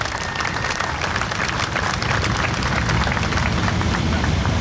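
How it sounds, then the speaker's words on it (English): An audience at a September 11 memorial ride event gives a round of applause for a long-serving organiser, a dense, steady wash of clapping that holds throughout at an even level. "Can we have another round of applause for Fred Garrity?"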